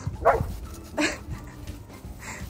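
A dog out on a walk gives a few short, close barks and yips spaced apart over quiet outdoor background.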